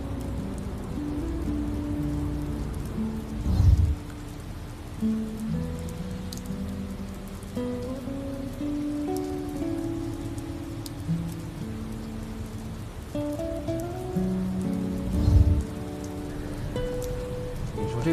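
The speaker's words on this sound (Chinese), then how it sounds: "下雨了" Steady rain falls throughout, a dense even patter with a faint low tonal layer beneath and two brief louder thumps.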